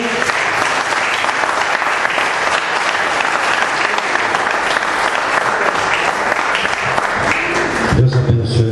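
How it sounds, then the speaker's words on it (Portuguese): A church congregation applauds a newly consecrated pastor during an evening service, loud sustained clapping filling the whole stretch and ending abruptly near the close. "eu gostaria que vocês dessem uma salva de palmas para ele"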